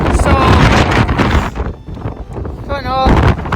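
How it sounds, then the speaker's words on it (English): Strong wind on a Scottish mountain near Glen Callater buffets the microphone in loud, rumbling gusts, easing briefly before surging again, with a short tonal squeal midway. "it's too windy now"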